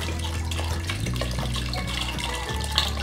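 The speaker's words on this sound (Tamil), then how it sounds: "ஸோ மெஷர் பண்ணி ஊற்றுங்க தண்ணி கரெக்டாக" Water pours steadily from a vessel into a pot of rice being measured for cooking, a continuous splashing trickle close by, with no talking.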